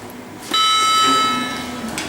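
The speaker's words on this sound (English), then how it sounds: "the chime is loud on this one" A loud lift arrival chime rings out in an old hospital building, a single bright sustained tone that struck suddenly and decays slowly over a steady background hum.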